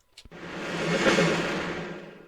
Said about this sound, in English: Next up, we have this snare swell